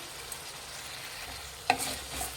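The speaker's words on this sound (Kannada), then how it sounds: "ಮಿಕ್ಸ್ ಮಾಡಿ ರುಚಿಗೆ ತಕ್ಕಷ್ಟು ಉಪ್ಪು ಹಾಕ್ತಾಯಿದ್ದೀನಿ" Sambar for mini idli simmers with a soft, steady sizzle while a spoon stirs and mixes, ending in a single clear clink against the pot.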